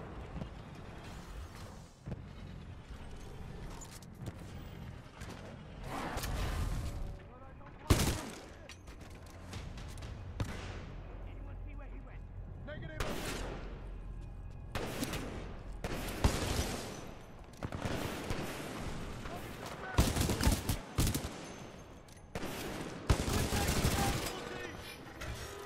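Rapid bursts of gunfire and explosive blasts from the video game Titanfall 2, loud and recurring in clusters across the clip over a dense, rumbling combat backdrop.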